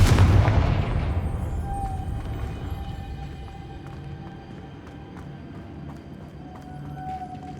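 A Confringo spell explosion in Hogwarts Legacy, a loud booming blast at the start that decays into a long rumbling tail, followed by faint scattered clicks and a thin ringing tone over quiet ambience.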